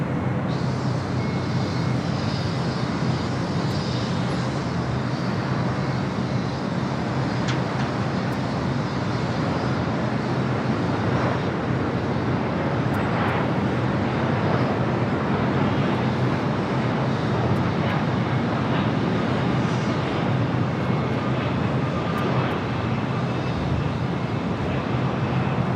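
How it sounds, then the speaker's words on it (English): A Boeing 757-300 airliner arriving on runway 24 right at LAX, a continuous broad engine roar that stays loud and steady throughout, with wind rumble. "got that 757-300 up next for arrival here on the north side, 24 right"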